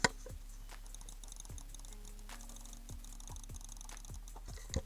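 A computer mouse button held against a microphone gives off a series of faint, sharp clicks, roughly a dozen irregular taps over quiet background hiss.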